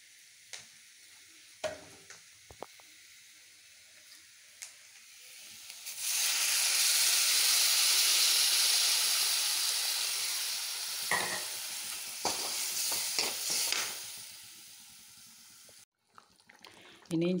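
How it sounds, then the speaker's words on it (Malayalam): Tamarind water pours into simmering ginger curry for Onam inji curry, setting off a loud steady hiss and sizzle for several seconds that fades into light clinks and bubbling. "പുളിവെള്ളം നമുക്ക് ഇതിലേക്ക് ഒഴിച്ചു കൊടുക്കാം"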